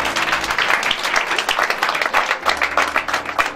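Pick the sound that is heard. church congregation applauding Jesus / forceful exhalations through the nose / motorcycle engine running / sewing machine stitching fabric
church congregation applauding Jesus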